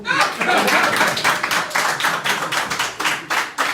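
A crowd claps steadily and energetically, dense rhythmic hand claps filling the space throughout.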